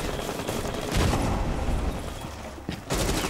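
Rapid gunfire rattles in bursts, loud and close, with heavy impacts near the one-second mark and again near the end, over a constant noisy backdrop.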